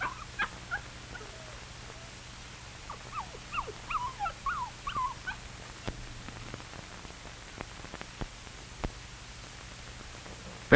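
A puppy whimpers in short, high-pitched whines and yelps repeating every second or so, fairly near over a low steady hum.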